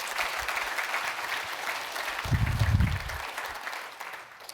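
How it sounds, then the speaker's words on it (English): Audience applause at a broadband networking keynote for a project team, moderately faint and steady, swelling briefly in the middle before tapering off. "I want to just give a round of applause here to Guru and the entire ONF team."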